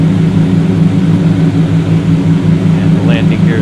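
Aircraft engine held at maximum throttle during a slow climb in Flight Sim World, a loud, steady droning hum with a constant tone, running alone throughout.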